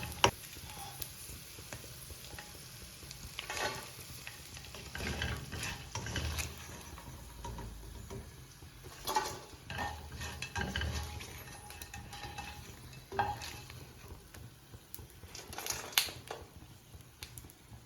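Edible gum fries in ghee for panjiri, a faint steady sizzle broken by repeated scraping and clinking stir strokes of a utensil against the pan, close and fairly quiet.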